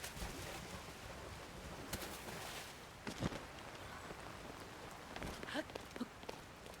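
Steady rain falling in Zelda: Tears of the Kingdom, a soft, even hiss with faint scattered taps and a few brief brighter splashes, low and unbroken throughout.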